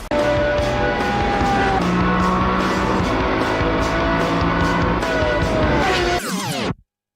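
A loud car engine drones hard and steady at close range for several seconds, its pitch sliding as it works through the gears, then cuts off in a short rising whoosh. No one speaks.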